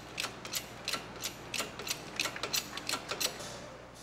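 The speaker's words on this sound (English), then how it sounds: "All right, Chris, why don't you take that jack out of the back from underneath the transmission" A jack is pulled out from beneath the transmission of a Lexus IS300 during a swap to a Lexus GS430 V8, giving a quick run of close, ratcheting metallic clicks and clanks with no talking.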